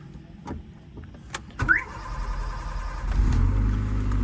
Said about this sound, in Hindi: तो चलें जी, गाड़ी को स्टार्ट करते हैं।